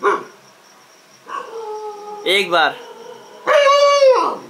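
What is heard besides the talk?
dog barking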